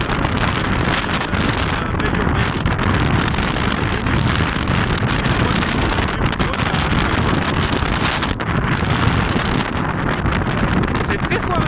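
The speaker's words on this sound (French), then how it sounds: "Ah, il y a du vent." Heavy wind buffeting a microphone outdoors beside a large country road, a loud continuous rumbling roar that persists throughout with no break.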